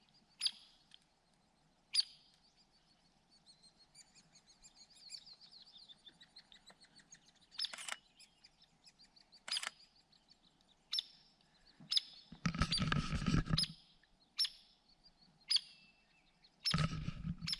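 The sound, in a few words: woodpecker calling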